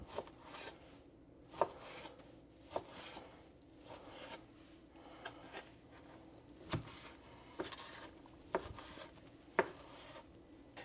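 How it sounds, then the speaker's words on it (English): A kitchen knife chops raw ahi tuna into cubes on a cutting board, giving quiet, evenly spaced taps roughly once a second, close up against a soft background. "And we're just going to want to cut this into cubes."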